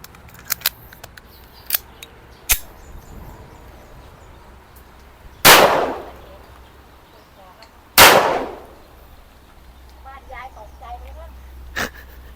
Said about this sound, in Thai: ยิงได้ปกตินะครับ ลูกหมดสไลด์ค้างตัวปืนไม่มีปัญหา